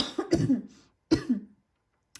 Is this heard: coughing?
yes